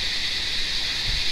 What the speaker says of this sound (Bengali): দেখো এখানে ঝিঝি পোকার ডাকটা দেখো